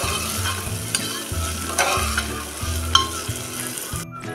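Mixed dal frying in hot oil while a spoon stirs it, sizzling steadily with repeated scraping strokes, close and moderately loud, no speech.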